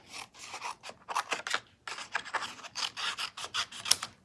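Scissors snip card stock pieces apart in a quick series of close, crisp cuts and rustles, stopping and starting irregularly with no speech.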